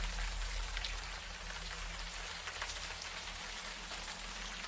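Warm rain from the video game Unavowed falls steadily, a soft, even hiss of drops pattering on surfaces with a faint low hum beneath, continuous and moderately quiet throughout.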